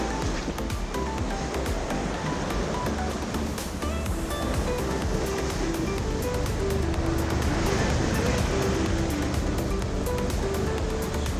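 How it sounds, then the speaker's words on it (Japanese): Waves wash steadily against a rocky shore on Aomori's Sea of Japan coast, a continuous loud surging roar with wind noise, heard close without any talk. "青森の日本海側の 磯になります。"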